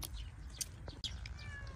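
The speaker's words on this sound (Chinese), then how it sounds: "野猫" A feral cat meows faintly a few times at a distance over a steady low background rumble, with brief gaps between calls.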